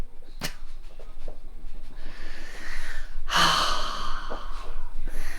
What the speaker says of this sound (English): He's having a good sniff now